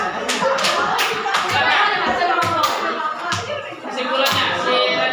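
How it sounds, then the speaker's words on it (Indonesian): Classroom students clap their hands in a loose, uneven round of applause, close and fairly loud, while a teacher speaks briefly over it. "Tepuk tangan."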